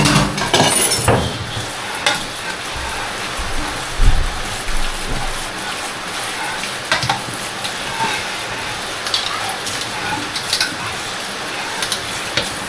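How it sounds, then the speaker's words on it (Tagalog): Steady heavy rain hisses across the whole clip, with scattered louder splashes and knocks near the start and a few brief faint voices. "Malakas ang ulan pero hindi masyado malamig."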